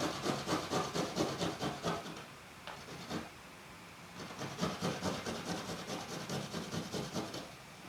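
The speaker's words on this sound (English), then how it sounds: "So we are grate our garlic." Garlic is rubbed against a grater in quick, rhythmic rasping strokes, loud and close, with a short pause in the middle before the steady scraping resumes.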